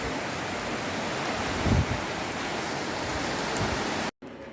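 Steady rain falling in Jessore makes a dense, even hiss that holds without a break, cut by a short dropout near the end.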